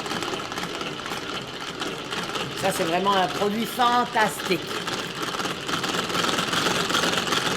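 Manual, non-electric Tupperware whisk beating egg whites, a rapid mechanical whirring and rattling that runs continuously and fairly close, with someone talking over it partway through.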